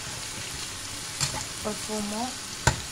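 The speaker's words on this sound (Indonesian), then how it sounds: "Nah, kita goreng sambalnya" Sambal frying in a pan for homemade nasi goreng, a soft sizzle under occasional scraping stirs and a sharp clack near the end, with a brief spoken word.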